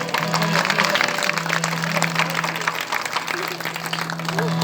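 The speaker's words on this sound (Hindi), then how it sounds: "तालियों के साथ स्वागत कीजिए" An audience applauds to welcome a tabla player at a Hindu religious discourse on cow devotion, a steady bed of clapping that runs throughout, with a sustained tonal hum underneath.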